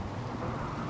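Steady rain with a low thunder rumble during a thunderstorm in the colony-building game RimWorld, a dense continuous wash of noise with no talking.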